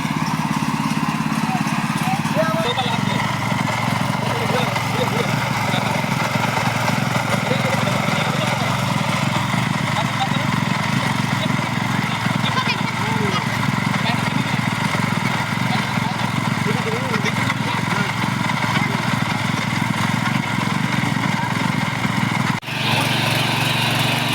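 A power tiller engine runs continuously outdoors on farmland, a loud, steady mechanical drone that barely changes over the whole stretch, with talk faintly present beneath it.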